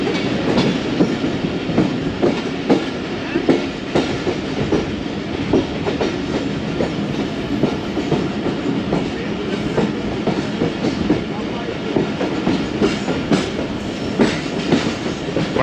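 The 9UP Allama Iqbal Express, an economy-class train from Karachi to Raiwind, rolls steadily on the rails with continuous rumble and rhythmic clickety-clack of wheels, heard close from inside the carriage with no talking.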